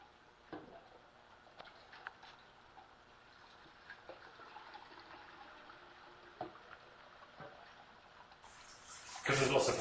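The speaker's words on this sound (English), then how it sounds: "using a plastic jug, pouring the curds and the whey into the cheese mold." Curds and whey pour from a plastic jug into perforated cheese molds while making halloumi and ricotta, a soft steady trickle with a few light splashes and knocks, growing louder and fuller near the end.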